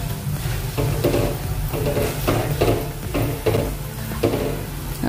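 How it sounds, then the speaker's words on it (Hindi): Grated raw potato chivda frying in oil over low gas, stirred now and then with a spoon, giving a steady dense sizzle with periodic scraping and stirring pulses throughout. "गैस को कम करके ही इसको तलना है, तभी ये खस्ता तैयार होंगे। बीच बीच में चम्मच से हिलाते भी जाइए।"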